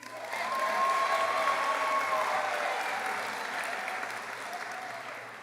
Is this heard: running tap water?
no